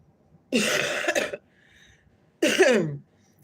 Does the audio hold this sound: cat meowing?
no